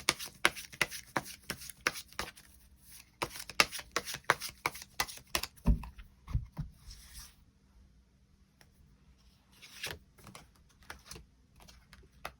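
Tarot cards being shuffled, a quick run of crisp riffling flicks and soft slaps that bunch up closely, then thin out into sparse taps and a few thuds toward the end. No one speaks.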